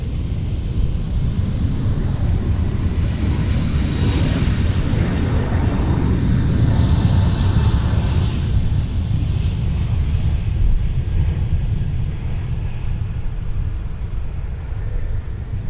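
An airliner departs Minneapolis–Saint Paul airport, its jet engine roar loud and steady throughout, a broad rumble with rising whine as the plane climbs away.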